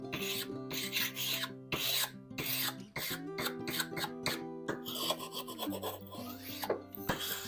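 A hand file sharpens a metal blade in repeated downward strokes, each a loud close rasp, with the file lifted on the way back and brief gaps between strokes; no speech.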